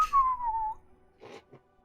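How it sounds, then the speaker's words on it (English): A person whistles a single sliding tone that glides downward and fades, followed by a couple of brief, soft sounds. "I don't think anyone heard my whistle except for Chinook"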